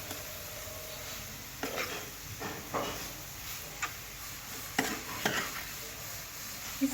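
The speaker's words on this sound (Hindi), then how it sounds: "इसको अब इसी तरह से मिक्स कर लेंगे" A spoon stirs and mixes chicken bread roll filling in a pan, making a quiet bed of sizzle broken by scattered scrapes and knocks against the pan at an uneven pace.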